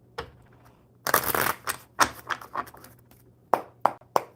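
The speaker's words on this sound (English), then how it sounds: "One more good shuffle." A deck of tarot cards is shuffled by hand, a dense riffling burst followed by scattered taps and flicks as the cards are squared and cut, close and fairly quiet.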